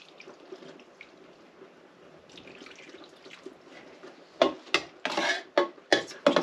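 Liquid yarn dye is poured onto sections of yarn, starting as faint trickling and rubbing, then turning into louder, close splashing pours in several separate bursts.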